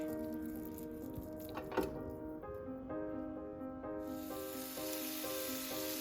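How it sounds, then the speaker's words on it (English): Sausage meat sizzles as it goes into a pan with a little olive oil, a steady crackling fry under a backdrop of sustained musical tones. "And we're going to start adding our meat."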